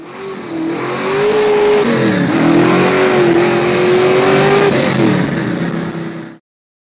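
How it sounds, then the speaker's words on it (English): A 1967 Cougar with a 351 Windsor V8 and a top-loader four-speed revs hard on a test drive, its engine note climbing, dipping and holding loud and close for about six seconds before cutting off abruptly. "Test vehicle is a 1967 Cougar with a 351 Windsor, top loader 4-speed, and 356 posi and a 9-inch rear."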